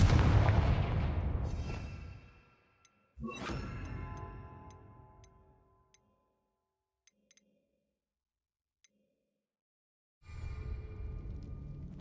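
Three booming Confringo spell explosions in a Harry Potter video game, each a heavy blast with a long rumbling decay, separated by quiet stretches with faint ticks.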